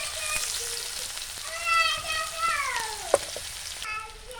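Chopped onion frying in hot oil with two dry red chillies and whole cumin seeds for a Bengali fish curry: a continuous soft sizzle with faint crackles and a sharp click, under a tonal sound like a voice or whistle.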